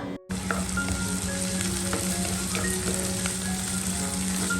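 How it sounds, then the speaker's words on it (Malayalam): Shallots, ginger, garlic and curry leaves sizzle steadily in hot oil, a dense close crackle with small pops throughout, starting right after a brief cut near the beginning. "ചെറിയ ഉള്ളി ഇഞ്ചി വെളുത്തുള്ളി കറിവേപ്പില എന്നിവ എണ്ണയിലിട്ടിട്ട് നന്നായിട്ടൊന്ന് മൂപ്പിച്ചെടുക്കുക"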